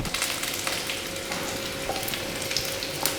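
Carrots sizzling in a hot pan with a steady crackle and occasional soft stirring knocks, close and even throughout, with no voices.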